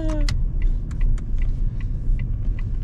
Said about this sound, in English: So right now I'm driving over to Mum's house